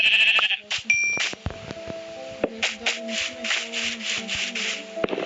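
Several short, harmonic sheep bleats from Minecraft repeat in quick succession, fairly close and loud, with faint clicks and a steady game-like hum underneath.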